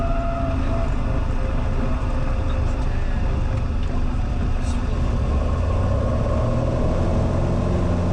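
A small airplane touches down on a runway with engine power pulled to idle: a steady, loud engine and wind drone fills every moment, a low, continuous hum with no clear breaks, while a voice is faintly present.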